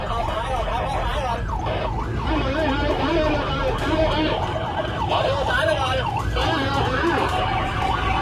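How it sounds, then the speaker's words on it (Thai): An ambulance siren wails repeatedly as the vehicle speeds to a pickup truck rollover on a bridge over a railway, where fifteen people are injured. The rising-and-falling tone is loud and continuous over road noise, and someone talks throughout. "รถพยาบาลอยู่ระหว่างใช้ความเร็วเข้าที่เกิดเหตุครับ"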